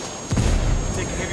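Heavy gunfire in the video game Ghost Recon Wildlands, a loud low burst of shots that starts after a brief quiet and rolls on as dense, sustained rumble.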